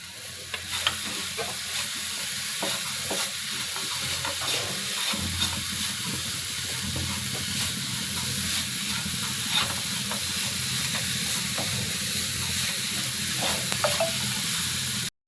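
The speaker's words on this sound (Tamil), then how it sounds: "இந்த வெல்லம் மெல்ட் ஆகிற வரைக்கும் கிளறிக்கலாம்." Jaggery melts in a pan while being stirred for a moong dal sweet with cardamom, giving a steady soft sizzle and hiss with repeated scraping strokes throughout, close and continuous without talk.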